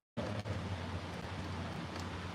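Rain falling over Dhaka city, a steady, dense hiss of rainfall that starts abruptly and continues evenly throughout, with no talk.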